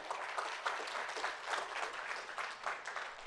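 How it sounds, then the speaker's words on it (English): Audience applause at a public safety week community event, steady dense clapping from a crowd throughout, moderately distant with no speech over it. "give them a round of applause, guys, because they do great work"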